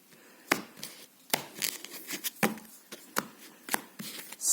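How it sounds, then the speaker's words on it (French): One-handed shuffling of a deck of playing cards, heard as a series of sharp, close, papery riffles and snaps at an irregular rhythm, with no talk. "Je la mets dans mon paquet et je vais mélanger."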